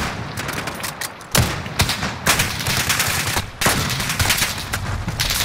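Rapid bursts of gunfire from Call of Duty: Modern Warfare fill the mix, loud and dense, with sharp repeated shots and short gaps between volleys.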